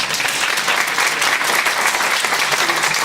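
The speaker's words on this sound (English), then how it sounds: "Can we give a round of applause?" An audience claps steadily, a dense, continuous wash of applause that holds at full strength throughout.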